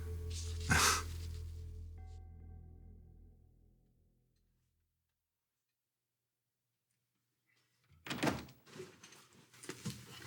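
A door opens with a loud thump and creaking, the sound trailing off into silence. A few seconds later a second burst of knocking and thudding follows as the door closes.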